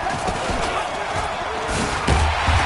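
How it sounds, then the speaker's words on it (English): A stadium crowd in a PS4 American football video game roars steadily at high volume, with thumps and a swell of cheering near the end, under a play-by-play commentator's talk. "Here comes a big one as this crowd gets up making some noise."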